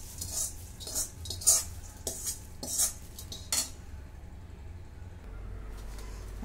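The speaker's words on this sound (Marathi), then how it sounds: "आता हे सगळं मिक्स करून घेते" Fried poha and puffed rice are stirred together in a metal kadhai, with a spoon scraping and clinking against the pan in a few quick bursts before going quiet.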